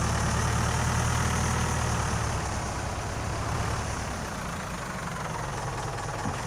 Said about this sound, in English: I forgot how loud this tractor sounds.